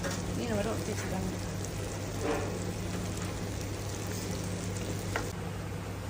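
Vanjaram fish sizzling steadily in a pan over low heat, a continuous crackling hiss with occasional louder pops, close and moderately loud, with faint steady hum beneath.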